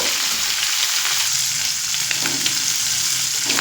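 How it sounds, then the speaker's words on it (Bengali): Shrimp frying in a pan with onion and garlic, giving a loud, dense, continuous sizzle up close with faint stirring scrapes underneath. "পেঁয়াজ আর রসুনের সঙ্গে চিংড়ে মাছটা খুব সুন্দর করে ভেজে নেব"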